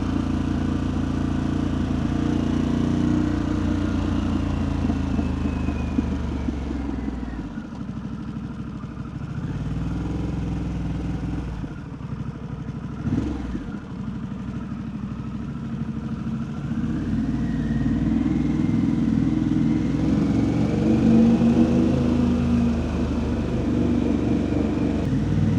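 A 2025 Harley-Davidson Pan America ST motorcycle ridden around Raleigh, its engine a steady low rumble with wind rush that dips mid-clip and then swells again as it pulls away.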